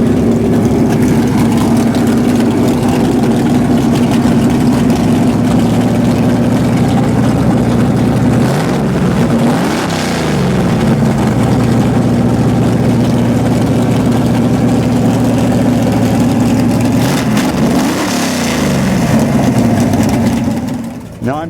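A big Ford Boss 429 V8 idles loud and close at a drag race pit area, a steady deep lumpy rumble broken by two brief throttle blips, with background voices around it.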